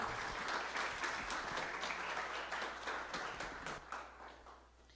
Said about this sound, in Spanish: pido un aplauso y le doy uso de la palabra a la doctora Cárdenas Puente